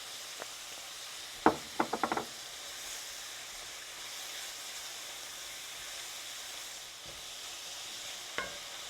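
Seasonings such as Montreal steak seasoning, garlic powder and paprika being stirred into venison frying in a pan, with a steady sizzle under a quick burst of close scraping stirs and a few lone knocks.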